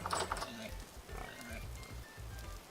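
Pigs in the farming game Vintage Story give low grunts and oinks in short repeated bursts. The sound is soft and sits under a faint game backdrop.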